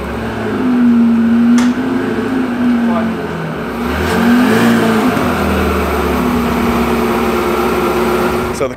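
A Zenvo TSR-S supercar creeping into a trailer, its engine holding a steady low idle drone with brief blips of throttle rising and falling, loud and close, with some movement noise over it.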